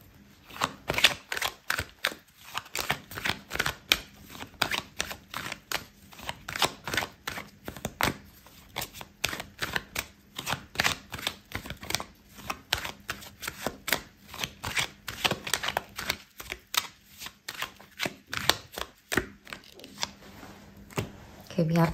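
Tarot cards shuffling by hand at close range, a steady stream of quick crisp flicks and riffles running through the whole stretch, with soft speech in the background.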